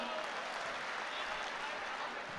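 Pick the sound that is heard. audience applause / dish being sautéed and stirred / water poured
audience applause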